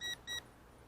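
An Eachine E511S GPS camera drone sounds its altitude warning when flying too high: two short, clear electronic beeps in quick succession, then quiet.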